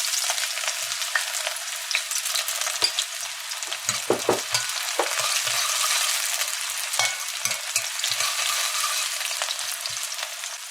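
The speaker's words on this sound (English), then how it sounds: "So we can let our onions fry up a bit," Onions fry in hot oil, a loud continuous crackling sizzle heard up close with no talk, dotted with small pops and a few soft stirring knocks.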